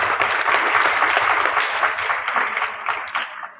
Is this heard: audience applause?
yes